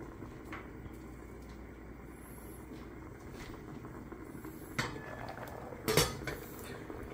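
A metal lid clanks onto a pot of paksiw, a galunggong fish stew with eggplant and okra. Two short, sharp knocks stand out over a low, steady kitchen background.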